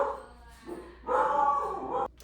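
Pet dogs bark excitedly indoors in two loud bursts, a short yelp first and then a longer stretch of overlapping barking that stops abruptly.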